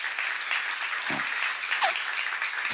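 Church congregation clapping together in a sustained, dense wash of applause that holds steady at moderate loudness throughout, with a brief voice slipping in partway.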